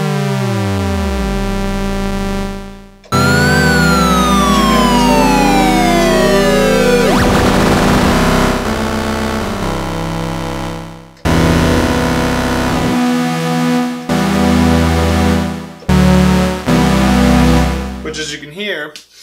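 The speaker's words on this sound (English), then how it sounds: "if you put LFO1 onto the pitch mod, and then you put the pitch mod up just a little bit, it moves the oscillator's pitch so fast" A Behringer DeepMind12 synthesizer plays loud sustained tones as LFO1 drives fast pitch modulation, giving warbling, siren-like sweeps and clashing swoops that cut off and restart several times, with no voices.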